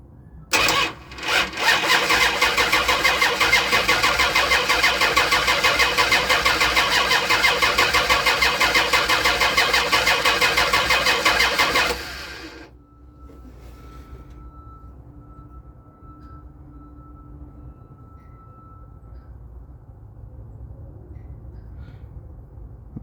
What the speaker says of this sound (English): so that was the compression test on the driver's side